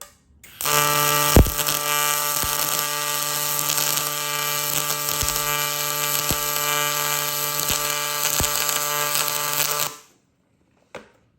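Aluminum welding with a Miller 255 Aluma Pro push-pull welder, a loud steady buzzing arc with a few sharp crackling jumps, close, running about nine seconds before stopping abruptly.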